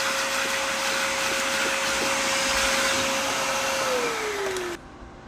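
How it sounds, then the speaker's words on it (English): A vacuum cleaner runs with a loud, steady whine close by, its pitch sliding down as it shuts off, then cutting to near silence. "It's good to clean off the vacuum cleaner first."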